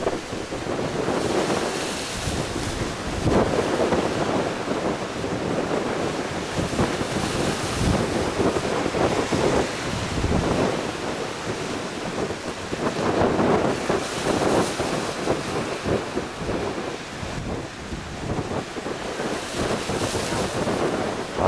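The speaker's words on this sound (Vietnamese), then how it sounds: "Gió ghê sao chứ, quá sóng đánh quá trời dữ luôn" Strong wind roaring and big waves crashing around a fishing boat at the harbour mouth of LaGi port, a loud continuous rush with rising and falling surges.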